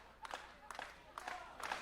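Wrestling crowd at a match for Chris Bey, bursts of shouting and cheering rising in repeated waves, moderately loud and roomy, with no clear talk over it.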